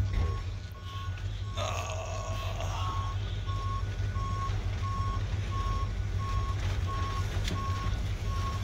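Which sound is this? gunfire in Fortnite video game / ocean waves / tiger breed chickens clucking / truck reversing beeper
truck reversing beeper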